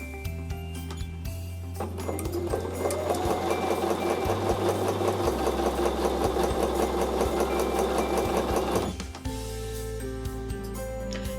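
A sewing machine stitches paired charm pack fabric squares in one loud, steady whirring run with a fast mechanical clatter, starting and stopping abruptly within a quiet room hum.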